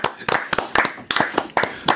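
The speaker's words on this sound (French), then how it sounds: "on se lève pour applaudir ce monsieur" Several pairs of hands clap in an uneven rhythm, close by and moderately loud, like a small audience applauding.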